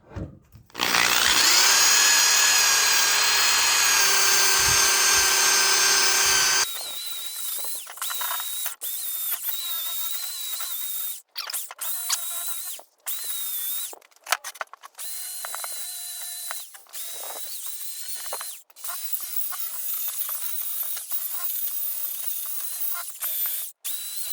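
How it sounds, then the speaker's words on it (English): A power drill whirs loudly for several seconds, then a steady grinding buzz of a spinning wire brush cleaning a radiator continues with intermittent scraping clicks and dropouts. "I'm going to try electric drill with a wire brush."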